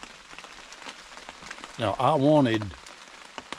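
Heavy rain pours onto a hunting blind, a constant hiss and patter of drops throughout, while someone speaks briefly over it in the middle.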